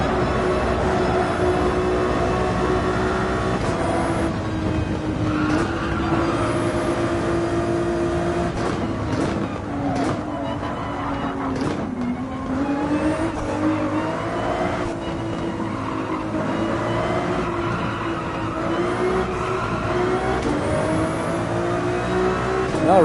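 A race car engine drones through a hot lap on Highway 1 in Gran Turismo 7, loud and continuous, its pitch sweeping up through the gears and dropping on shifts and braking.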